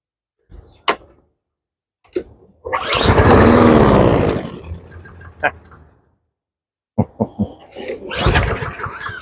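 Small engine with a carburetor problem sputters to life in brief bursts, runs roughly for a few seconds, then dies, followed by further short attempts and another rough run, close and loud.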